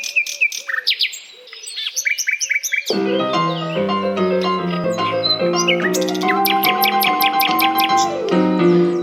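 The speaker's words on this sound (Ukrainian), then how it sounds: "Пташка співає." A bird sings in bright, rapid chirps and trills, starting thin and then swelling into a dense, continuous warbling song, close and loud.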